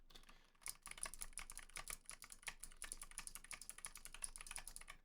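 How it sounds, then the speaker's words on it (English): Rapid, continuous typing on an RK N80 keyboard with linear switches, a dense stream of close, crisp key clacks with no talking. "These linear switches, they're not loud, but they make quite a bit more noise."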